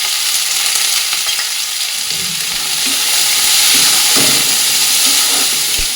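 Steady, loud sizzling of vegetables frying in a pan, a constant hiss with occasional soft clinks and stirring sounds, no talking.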